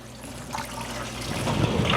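Water poured out of cans into a cooking pot while prepping chili and beef on a camping trip, a continuous trickling, splashing stream that grows fuller toward the end, with no talk.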